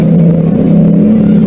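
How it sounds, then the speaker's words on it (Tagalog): A motorcycle passes noisily outside, its engine drone loud and steady throughout with no voices. "Ang ingay talaga ng tricycle, eh. Motor pala yun."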